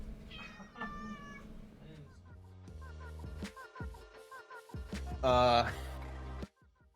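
A house cat meows indoors, several drawn-out meows in succession with a louder, higher cry near the end, close and clear over faint room noise, then cutting off abruptly.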